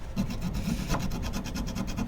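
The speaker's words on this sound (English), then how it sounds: "file a bit at a time and then rotate the strut around" A metal file rasps across the threads of a Fiat 500 front shock absorber strut in steady, repeated back-and-forth strokes, close up and alone.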